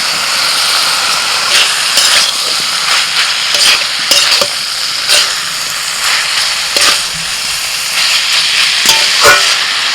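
Boiled water lily stems and shrimp fry together in a pan in a village kitchen, giving a loud, continuous sizzling hiss broken by repeated stirring clatters and scrapes, heard up close with no speech.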